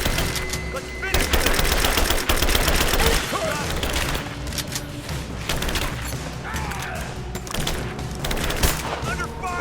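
Heavy gunfire in Rise of the Tomb Raider, sustained bursts of automatic fire and booming shots filling the whole stretch, loud and dense with a few scattered impacts.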